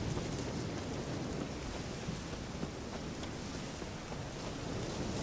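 Thunder rumbles through a stormy forest in the video game The Witcher 3: Hearts of Stone, a continuous broad roar with rain-like wash, steady and moderately loud with no distinct claps.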